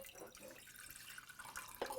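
Water poured into a pot to start a pandan syrup for a Thai red rubies dessert, a soft, steady trickling splash heard close and fairly quiet, with a brief brighter splash near the end.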